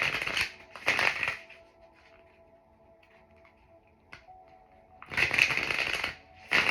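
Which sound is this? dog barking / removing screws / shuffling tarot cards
shuffling tarot cards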